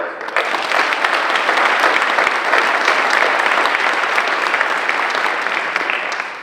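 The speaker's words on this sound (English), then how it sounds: "But another round of applause for Van." A lecture audience claps warmly for a speaker at Wofford, a dense, sustained roll of many hands at moderate distance, holding steady for several seconds and tapering slightly at the end.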